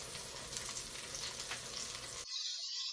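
Onions and peppers sautéing in olive oil in a hot pan, a steady close sizzle and crackle that cuts off abruptly, with no talking.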